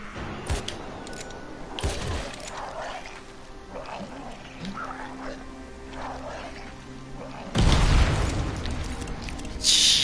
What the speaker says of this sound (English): their head will just explode